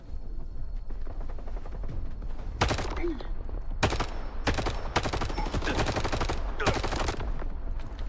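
Bursts of video game gunfire, several loud rapid volleys cracking through wooden cover, arriving in repeated clusters over a steady noisy background.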